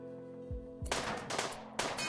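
Bolt-action rifle fire in the video game RimWorld: two quick low thumps, then loud sharp cracking bursts with a brief pause before a final blast, no voices.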